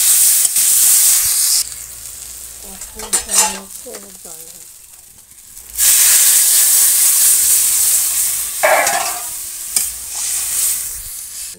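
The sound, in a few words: broth boiling in pot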